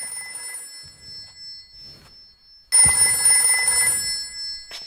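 Old-fashioned telephone bell ringing in the video game Haunting Grounds, a faint ring at first, then a loud, close, sustained ring after a short pause, with no one talking.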